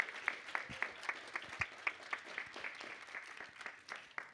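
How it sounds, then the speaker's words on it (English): Quiet applause from an audience at a city council meeting, a modest crowd clapping in quick, steady beats heard at a distance, gently thinning and then swelling slightly at the end. "Give a round of applause."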